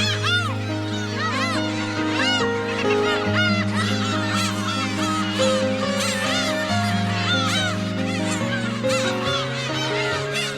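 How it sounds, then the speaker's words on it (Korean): A dense colony of black-tailed gulls on Hongdo island calls at night, many overlapping mewing, nasal cries layered continuously and loudly, near and far at once, with a narrator speaking over them. "밤이 되었는데도 괭이 갈매기들의 소리는 요란하군요"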